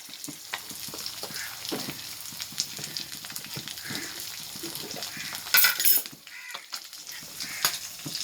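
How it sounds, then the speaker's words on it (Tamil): Fenugreek seeds frying in sesame oil for a red mullet fish curry, a steady crackling sizzle throughout with light stirring and utensil clinks, a louder burst of spattering midway, no talking. "நல்லெண்ணெய் ஊற்றிக்கலாம் கொஞ்சமாக வெந்தயம் பிடிச்சி எடுத்துக்கலாம்"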